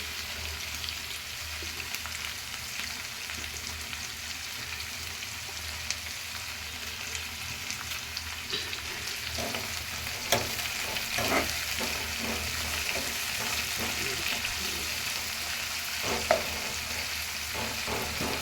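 Fenugreek greens and spring onion stalks fry in a pan with a constant soft sizzle, joined partway through by scraping and tapping as a spatula stirs, close and steady with no voices.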